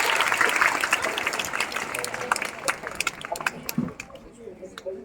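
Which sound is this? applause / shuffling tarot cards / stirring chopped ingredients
applause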